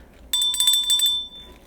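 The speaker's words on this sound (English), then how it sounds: "you guys like my new bell?" A new bicycle-style bell rings in a quick, bright burst of rapid trills lasting about a second, close and loud, then fades.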